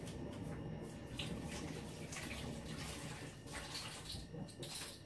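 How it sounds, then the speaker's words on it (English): Running tap water pours steadily into a container being rinsed out after holding sweet chilli sauce in a home kitchen, a continuous close splashing rush with no speech. "now I'm going to give this a rinse out"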